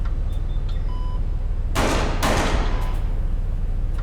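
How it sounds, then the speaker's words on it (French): Two loud gunshots go off in quick succession in the adventure game Secret Files 2, each a sharp, harsh crack over a steady low background hum, with no talking. "On aurait dit des coups de feu?"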